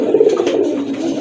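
A queen pigeon coos close by in a short burst of soft, throaty, rolling calls, clear and loud with no talking over it.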